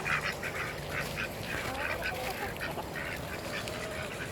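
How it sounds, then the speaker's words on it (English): Large male ducks quack in a yard, a steady run of loud, close, repeated quacks in quick rhythmic bursts over faint outdoor background noise. "Got some male ducks, big ones."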